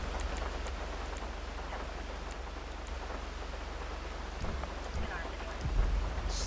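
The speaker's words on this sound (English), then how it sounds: "it's about to start raining again because nighttime is coming" Night rain in GTA Online, a constant dense hiss of falling rain with low thunder rumbling underneath and a few louder rolls near the end.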